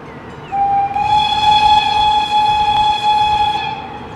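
A DB BR110 locomotive horn in a train simulator gives one loud sustained blast of about three seconds over a steady rumble from the train.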